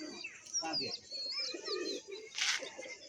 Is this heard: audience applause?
no